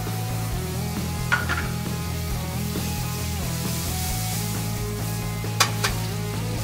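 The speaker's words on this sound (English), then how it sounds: "hot pan. To that, we're going to add about 1/4 pound of butter" About a quarter pound of butter melts in a hot pan with a steady, moderate sizzle, touched by a few faint clicks of utensils against the pan, with no talking.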